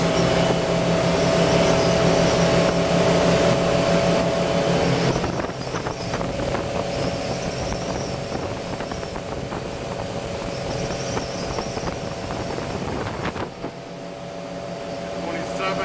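A Wellcraft 3300 Martinique motorboat runs at speed with a loud, steady engine drone mixed with rushing wind and water. The pitch shifts briefly midway, and a person talks over it.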